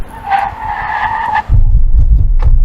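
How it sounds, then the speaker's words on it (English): An Audi Q7 SUV's tires squeal loudly during a hard braking test from 60 mph, with a steady skid tone lasting over a second, then a heavy low rumble as the vehicle stops. "Brake test from 60 miles an hour."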